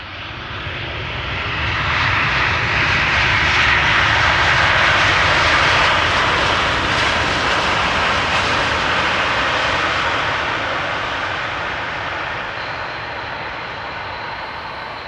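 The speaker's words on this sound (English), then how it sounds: "KLM flight 644, 787-10 Dreamliner, back from New York, JFK" A KLM Boeing 787-10 Dreamliner arriving at Amsterdam Schiphol from New York JFK, its engines swelling into a loud, broad jet roar that peaks mid-pass and then slowly recedes, with no voices over it.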